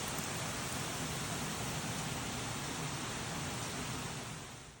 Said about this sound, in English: It's raining quite hard.